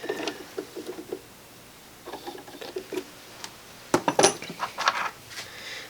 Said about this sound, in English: Then you just use this Allen wrench, and as you put this tighter, the jaws on this mandrel will expand